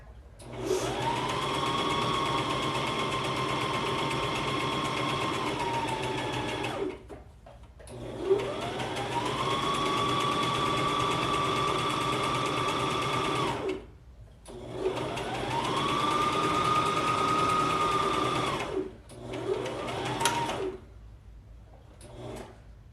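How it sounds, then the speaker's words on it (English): A sewing machine runs a zigzag stitch down the center back of a tee in three long, steady bursts of motor whir, each lasting several seconds, separated by brief pauses. "So we're doing the zigzag stitch all the way down the center back."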